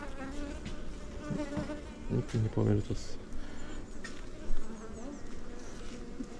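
Honeybees buzzing close by at open beehives in a soft, wavering drone, with a person talking over them partway through.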